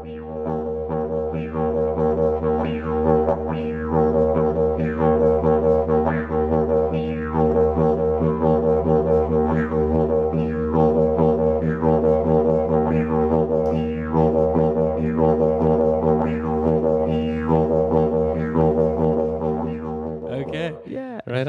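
A didgeridoo plays a continuous, loud low drone with rhythmic pulsing overtones and vocal-like wobbles, sustained throughout before a brief break near the end.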